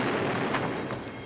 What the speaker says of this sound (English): Alert, Klingon torpedoes activated.